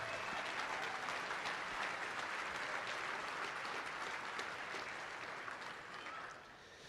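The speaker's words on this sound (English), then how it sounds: "please give these interview judges a round of applause" An awards ceremony crowd at a livestock auctioneer championship applauds the interview judges, a dense, sustained roar of clapping from many hands that tapers slightly near the end.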